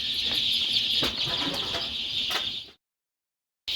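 Many baby chicks chirp in a dense high-pitched chorus with a few knocks while being carried in crates, then it cuts to silence before resuming briefly.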